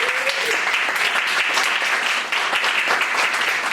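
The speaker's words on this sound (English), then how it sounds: "Let's give them a round of applause." An audience applauds forum speakers at a League of Women Voters carbon pricing forum, a steady, dense clapping that stays loud and even for the whole stretch.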